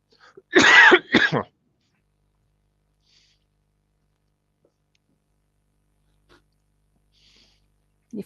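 A person gives a short burst of two or three harsh coughs close to the microphone, followed by near silence with only faint rustles.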